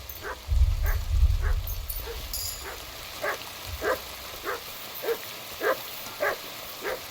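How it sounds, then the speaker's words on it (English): A dog named Mutt in Kingdom Come: Deliverance II gives a burst of low rumbling, then a steady run of short, evenly spaced barks and yips, clear and moderately close, with no talk over them. "Good dog, Mutt."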